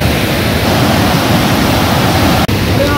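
Floodwater rushes over a main bridge at Sahastradhara near Dehradun after a cloudburst, a loud, continuous roar of broad churning noise close by with no breaks.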